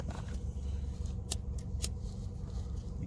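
Scissors snip thread during hand stitching of car seats, a couple of quick crisp cuts over a low background hum.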